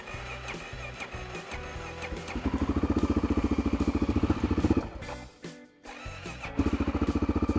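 A motorcycle engine warms up outdoors at a campsite near an old mine, its steady pulsing idle rising in level partway through, briefly dipping, then settling back into a loud, even rumble.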